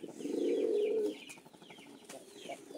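A red American Saddle pigeon breeding pair cooing nearby, one long deep rolling coo followed by quieter softer calls and faint chirps, no talking.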